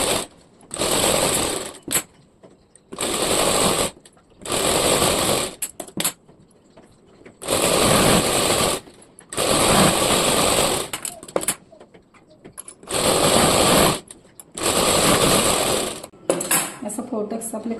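A sewing machine stitches tucks on a blouse in about seven bursts of rapid, loud stitching separated by short pauses.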